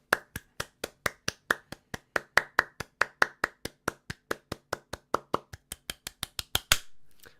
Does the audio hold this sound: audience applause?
yes